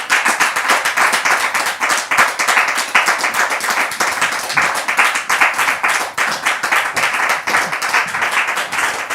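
Public audience welcoming a couple, the Kassi husband and wife, onto the stage with loud, close clapping whose rhythmic pulses suggest hands clapping in time, steady for the whole stretch.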